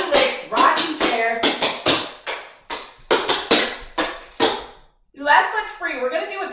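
Clogging dance steps in tap shoes, loud close rapid taps, heel strikes and shuffles in quick rhythmic bursts, pausing briefly before resuming.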